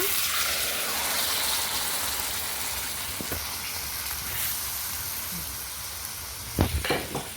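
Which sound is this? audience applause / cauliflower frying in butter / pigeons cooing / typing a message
cauliflower frying in butter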